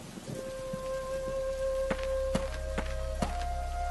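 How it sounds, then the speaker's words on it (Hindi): Heavy rain pours down steadily, with a few sharp drips and knocks and sustained musical tones running underneath. "कुछ ही देर बाद भारी बारिश में"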